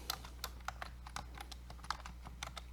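Keys clack on a computer keyboard as a musician's name is typed into a search box, a quiet, uneven run of sharp clicks with short pauses and no talking.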